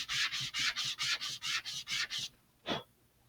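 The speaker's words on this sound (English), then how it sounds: "I'm going to just sand them all down so they're hopefully the same size." Laser-cut parts for an Estes Super Vega model rocket are sanded by hand with sandpaper, making about nine rhythmic back-and-forth rasping strokes, then a pause and one final stroke, close and clear.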